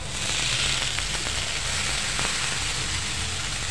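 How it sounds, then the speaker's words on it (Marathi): Thalipeeth, a Maharashtrian fasting flatbread made from bhajani flour, sizzles loudly in oil on a hot tawa, a steady close hiss with a few faint crackles and pops, no voices. "आता मी हे थालीपीठ तव्यावर घालत आहे"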